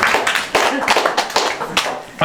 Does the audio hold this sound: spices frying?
no